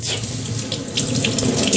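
Running tap water, around 30 degrees Celsius, used to wash out a bonsai root ball, a close, steady gushing and splashing stream that continues throughout with no voices.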